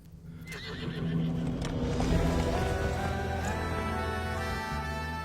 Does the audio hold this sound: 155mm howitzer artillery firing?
no